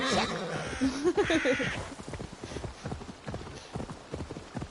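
Rapid hoofbeats clip-clop in a steady galloping rhythm, close and clear, from a horse in Assassin's Creed Valhalla, while a voice talks over the start.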